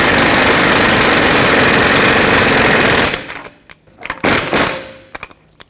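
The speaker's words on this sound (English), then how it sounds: "I'm using an air impact. However, when I tighten it, I'm not going to go all the way with it. I'm just going to bottom it out, get it snug." An air impact wrench snugs an axle nut on a 2003-2012 Chevrolet Colorado 4x4 during lower control arm work. It gives a loud, continuous rapid hammering for about three seconds, then cuts off, leaving a few faint clinks and handling noises.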